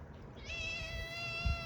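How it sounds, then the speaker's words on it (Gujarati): A black cat gives one drawn-out, rising meow that starts about a third of the way in and holds nearby and moderately loud over a quiet background. "બે કાળા બચ્ચા અને કાળા બિલાડી"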